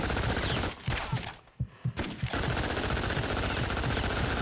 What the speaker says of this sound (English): the only gun they're going to give me is this machine gun